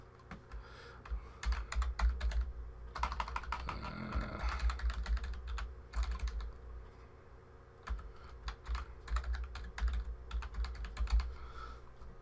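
A password is typed on a computer keyboard, with quiet, close key clicks in irregular bursts and brief pauses, over a faint steady hum.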